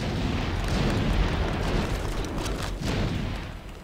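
Grenade blasts roll through a firefight in Star Wars: Republic Commando, a dense, continuous rumble of explosions that stays loud throughout and eases off slightly near the end.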